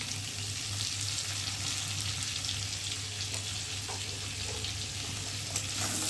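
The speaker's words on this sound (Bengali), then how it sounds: "পটলটা একটু ভাজা ভাজা হতে সময় দেবো" Salted pointed gourd frying in a pan, a constant close sizzling hiss with a low steady hum underneath and a few faint clinks, no voices.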